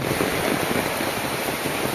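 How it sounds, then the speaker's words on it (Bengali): Steady rain pours over a village home in Kacharkandi, a dense, even hiss of water filling the air at moderate loudness with no pauses and no voices. "রাত্রি থেকে বৃষ্টি যা আসছে, এই বৃষ্টি আর থামতেছে না"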